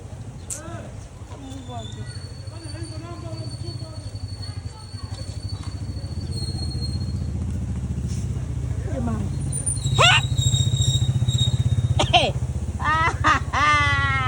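People talk over the low, steady rumble of an idling motorcycle, with a few short horn-like honks and chirps breaking in.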